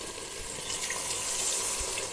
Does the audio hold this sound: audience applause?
no